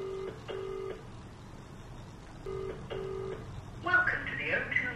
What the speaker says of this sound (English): So right now, I'm trying to call him now.